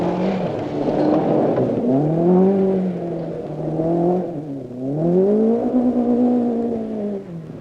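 Rally car driven by Roger Clark in 1975, engine revving hard near the microphone with rising and falling pitch through gear changes and cornering, loud and continuous with no talk.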